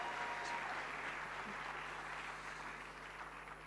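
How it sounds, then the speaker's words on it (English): Audience applause at a national launch ceremony, a sustained, even patter of many hands clapping that fades slightly toward the end, with no one speaking over it. "let's give a bigger round of applause to them."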